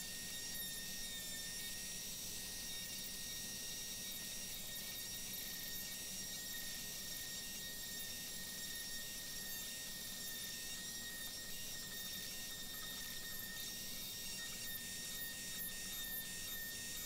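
A Dremel with a conical carbide burr grinds wood on a spirograph wood-turning piece, giving a steady, quiet high-pitched whine over soft continuous rasping.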